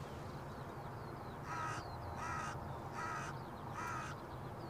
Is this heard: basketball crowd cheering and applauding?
no